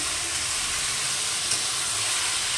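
Potatoes frying in a pan with spices, turmeric, chili powder and tomato give off a loud, steady sizzle with a constant bright hiss throughout and no talking.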